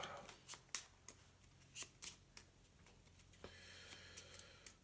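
A deck of cards is shuffled for the Gloomhaven Jaws of the Lion board game, giving a series of soft, quiet riffling ticks and flicks with short gaps between them.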